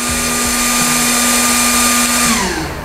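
A small handheld robot-style mini fan runs at its fastest setting, giving a loud, close, steady motor whine with a strong high-pitched hum that holds constant before starting to wind down at the very end.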